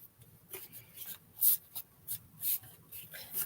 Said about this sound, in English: fold that in and fold it back, fold that in and fold it back